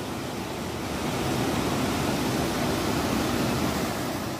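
Vyaghreshwar waterfall pouring into its pool at Manche-Devgad in Sindhudurg, a dense, steady roaring wash of water heard close and unbroken, without voices.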